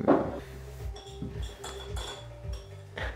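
A spoon mixes ingredients in a dish, giving a string of light, irregular clinks and taps against the bowl. It is close and fairly quiet, with no talking.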